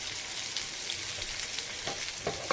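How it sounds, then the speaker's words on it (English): Butter melting in a pan on the stovetop before a steak goes in, a steady soft close sizzle with faint crackles throughout. "So just letting this butter melt for a minute."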